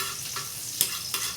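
Garlic sautéing in hot oil in a pan, a steady sizzling hiss with a couple of brief stir-like bursts, close and moderately loud.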